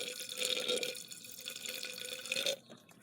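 Liquid trickles and gurgles steadily down the sunroof drain tube of a 2003 Dodge Grand Caravan minivan after a stuck plug was knocked out, a close watery flow that stops abruptly near the end.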